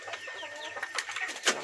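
Chickens cluck softly in a backyard flock that includes bantams, with repeated short calls and a sharper squawk near the end over low background noise.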